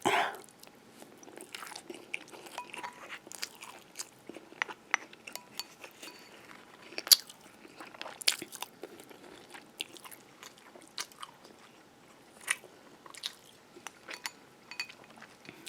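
Cooked hearts being chewed and eaten up close, with soft wet bites and crunchy chews scattered irregularly, plus an occasional faint clink of cutlery, in a quiet room with no talking.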